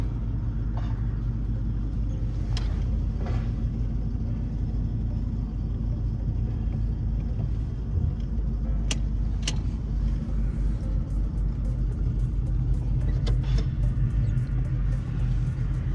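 A Chevy box car idles after a visit to the exhaust shop. A steady, deep engine and exhaust rumble runs unbroken from start to finish, close and fairly loud, with a few faint clicks and rattles on top.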